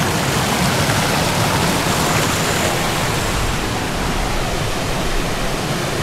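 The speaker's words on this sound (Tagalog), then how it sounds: "Ito yung kanilang ano, kanilang ilog." Continuous rushing water, a steady broadband roar like a flowing river, loud and close, with no voices.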